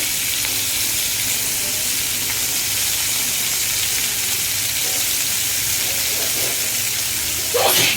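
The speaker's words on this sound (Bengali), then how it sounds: "একসাথে সবগুলো ইনগ্রিডিয়েন্ট ভেজে নেব।" Potato peels, chili, hilsa fish and chopped onion fry together in a pan with a loud, continuous sizzle, and a brief stirring scrape comes at the very end.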